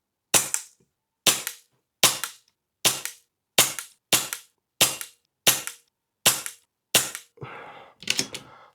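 An HFT500 air rifle firing Barracuda FT pellets, eleven sharp, loud, close cracks spaced about a second apart, each with a short decay, ending in a rougher clatter.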